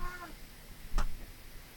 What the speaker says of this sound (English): I was rudely awoken from you going meow.